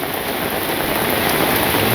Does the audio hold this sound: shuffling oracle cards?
no